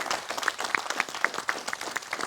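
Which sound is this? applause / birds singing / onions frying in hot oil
applause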